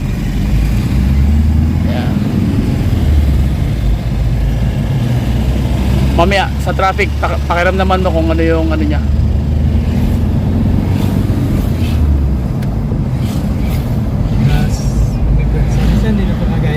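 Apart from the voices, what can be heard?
Toyota Hiace van engine during a test drive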